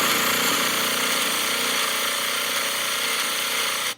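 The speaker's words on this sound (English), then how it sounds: "and he turns on the engine." A homemade engine runs with a loud, steady, harsh roar like a jackhammer. The rough, buzzy drone holds evenly close by and cuts off abruptly at the end, with no speech.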